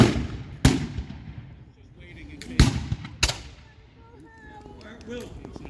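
Musket volleys crack out at a Revolutionary-era battle reenactment at Pine's Bridge, with several sharp, loud reports spaced a second or two apart and echoing across open ground, under faint distant voices.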